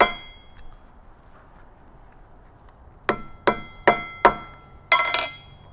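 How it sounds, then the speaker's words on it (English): A T-nut is hammered through leather on an anvil: five sharp metallic strikes spaced about half a second apart, close and clear after a few seconds of quiet. "I place the T-nut in the leather over this hole on my anvil so I can drive it through and"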